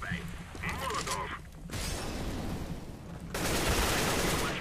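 Bursts of gunfire, a flashbang pop and a molotov shattering in the CS:GO shooter game, with loud crackling fire and noise swelling near the end while a player talks over it.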